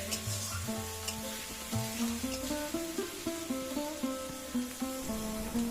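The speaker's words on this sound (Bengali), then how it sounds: "তেল ছাড়া পর্যন্ত মশলাটাকে আমরা ক্রমাগত নাড়তে থাকব" Masala spice paste sizzles steadily in hot oil for an egg curry while being stirred, with a continuous crackling fry and soft scraping under quiet background tones.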